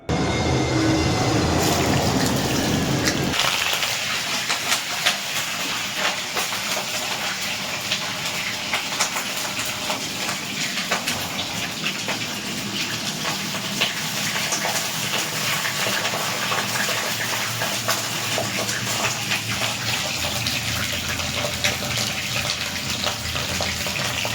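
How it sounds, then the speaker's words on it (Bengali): Hilsa fish heads frying in a pan give a loud, steady hiss and crackle that runs without a break, slightly harsher at the very start, with no voices. "প্রথমে মাথাগুলোকে একটু ভেজে নিতে হবে"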